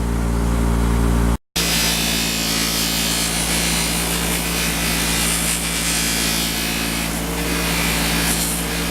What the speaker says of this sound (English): just by running these bolts on a buffing wheel for a minute or so, they'll come out looking brand new